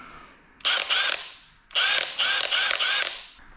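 A Milwaukee M18 impact wrench (2962-20), on its lowest power setting, whirs and rattles in two close, loud mechanical bursts: a short one, then a longer run with a few quick pulses, alone with no talk.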